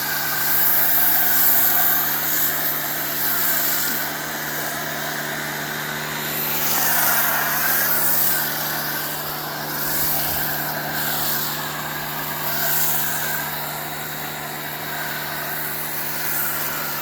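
A Ryobi 1800psi electric pressure washer runs steadily, spraying foam through an Adams foam cannon onto a car, a loud continuous motor hum and hiss with slight swells, close by and without talk.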